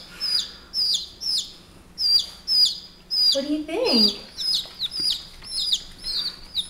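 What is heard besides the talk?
chickens chirping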